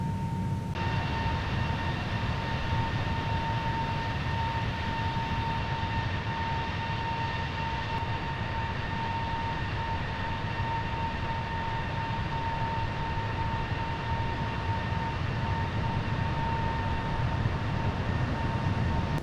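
Steady, loud drone of an Air New Zealand Airbus A321neo's engines in cruise flight on a simulated trans-Tasman route, heard from outside the aircraft as a constant broadband roar with a faint steady whine, unbroken and without talk.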